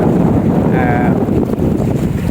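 Strong wind blows across the Huai Mai Teng reservoir in Chom Bueng, Ratchaburi, buffeting the microphone with a loud, constant roar and a brief faint tonal whistle.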